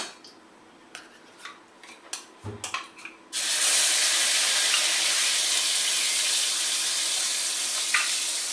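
Mustard-poppy paste hits a hot pan with fried black cumin and bursts into loud, steady sizzling that holds to the end, after a few light clinks and taps of utensils.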